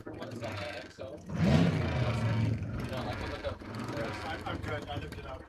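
A Roger McMillan land speed race car at El Mirage dry lake, a blown gas rear modified roadster built from a 1927 Ford Model T in C engine class, roars past with a loud swelling engine under continuous commentary.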